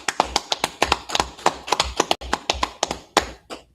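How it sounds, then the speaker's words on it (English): Congregation clapping in rhythm at a Sabbath service, a steady run of sharp, near hand claps repeating about every quarter second, loud and with no voices over them. "Clap it up"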